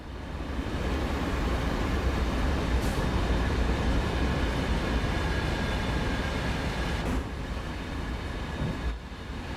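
Steady, loud rumble of a modded commuter locomotive in an MBTA Boston train simulator game, running continuously with a couple of faint clicks or joint knocks over the drone.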